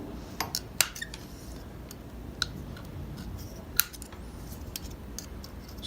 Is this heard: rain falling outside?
no